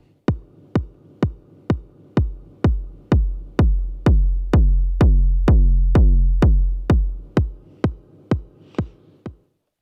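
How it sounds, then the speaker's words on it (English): A kick drum thumps in a steady series of about twenty deep, punchy hits, with the later strikes swelling louder and ringing longer before it fades and stops. The setting is a band rehearsing a jam toward a stage-ready arrangement. "Now, the kick drum."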